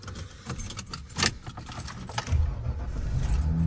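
Car keys jangle close by in a vehicle, with a faint engine hum and road noise underneath, a brief louder jingle partway through.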